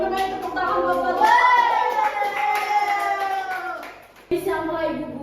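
Children in a classroom clap their hands together in a brief, steady round, with young voices and chatter mixed in throughout, a short dip near the end before the clapping resumes.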